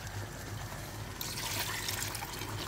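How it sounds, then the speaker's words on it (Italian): Water is poured into a pot of pasta being cooked risotto-style, starting as a sudden splashing, trickling pour partway through after a stretch of low kitchen background noise. "piano piano dobbiamo andare a inserire l'acqua"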